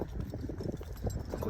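Horses walk with hooves clopping in a steady, uneven rhythm, close by in an open rural herding setting, with faint background noise.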